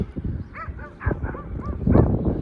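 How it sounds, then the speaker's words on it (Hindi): Dogs bark outdoors beside the Ravi river, where buffaloes bathe, giving a quick run of short yips and whimpering barks that sound fairly close over outdoor background noise. "अब कुत्ते भी भौंक रहे हैं।"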